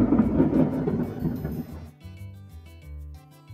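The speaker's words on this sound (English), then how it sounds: "know if you can hear it, but it's thundering" Thunder rumbling in the video game Another Eden, a loud, broad low roar at the start that decays over a couple of seconds, then fades beneath game music.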